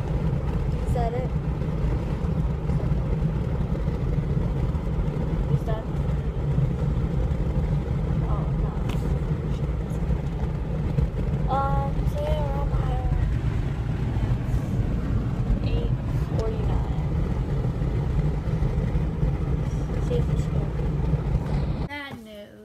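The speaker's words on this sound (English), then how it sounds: "So we're in the car right now." Interior of a moving car, with a steady low road and engine rumble running throughout beneath frequent talking, ending abruptly.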